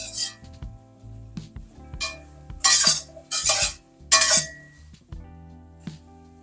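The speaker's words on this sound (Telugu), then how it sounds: "పనసకాయ ముక్కలు కొంచెం ఫ్రై అవ్వాలి" Pieces of raw jackfruit fry in a pan for a biryani, with close metal clinks and scrapes of a utensil against the pan and a few louder bursts of stirring and sizzle, no talking.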